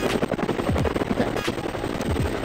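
Pistol gunfire in a Roblox police-and-robbers game, a rapid string of sharp shots over a constant loud game background, with no talking.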